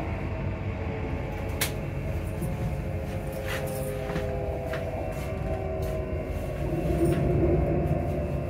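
A Class 334 electric train rumbles steadily while arriving at Edinburgh Park station, with a continuous loud mechanical hum and faint wheel and brake noises.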